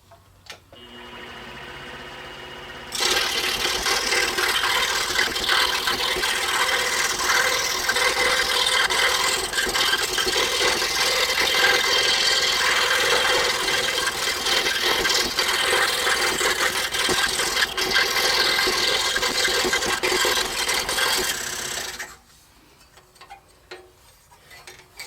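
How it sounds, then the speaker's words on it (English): A power saw cuts around the edges of wooden letters for a keychain, a steady loud buzzing rasp that runs continuously for about twenty seconds before stopping, followed by quiet handling sounds. "I'm just going to carefully cut around the perimeter of our letters"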